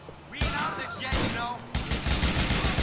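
Gunfire in GTA 4: The Lost and the Damned, loud rapid bursts of shots cutting in repeatedly over a few seconds, mixed with game noise while someone shouts excitedly over it.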